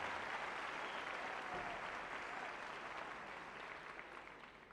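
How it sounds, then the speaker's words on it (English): An audience at a navy gala concert gives sustained applause, a dense wash of clapping that slowly fades toward the end. "a big round of applause for Sonia"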